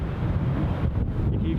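Strong, steady wind roars across an open airfield at Newcastle International Airport, buffeting the microphone with a dense low rumble that continues without a break.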